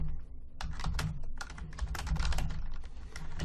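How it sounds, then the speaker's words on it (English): Rapid, continuous clacking of keys on a computer keyboard, close and fairly loud, with dense irregular keystrokes and no pauses or voices. "the way it works is we can just start typing in here"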